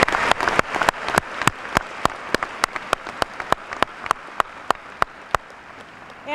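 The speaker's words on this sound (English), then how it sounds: "Let's give a round of applause to all those who have helped you get here today." At a high school graduation ceremony, sharp, evenly spaced claps ring out at a steady quick rhythm over a soft background wash of scattered applause.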